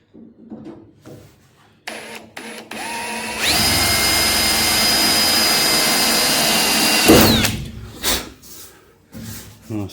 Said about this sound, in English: Don't break the drill, Sully.